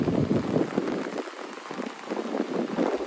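Steady Scottish rain patters down in a dense, continuous hiss, fairly close and even throughout with no voices.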